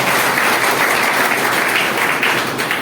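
Loud, dense applause from an audience at an Ayurveda business presentation, a steady wash of many hands clapping at once that holds evenly throughout with no talking.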